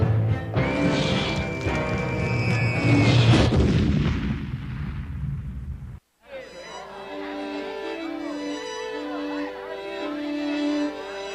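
Cartoon explosions and booms crash loudly in a dense burst over a busy soundtrack, then stop abruptly, giving way to music and what sounds like speech.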